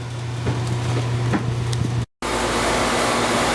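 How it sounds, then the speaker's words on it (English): Cool air rushing from a disconnected HVAC flex duct on an air handler install job, a steady loud broadband whoosh with a low hum and a few knocks, briefly cutting out before resuming stronger. "I disconnected me a flex right there and got me a little cool air blowing on me"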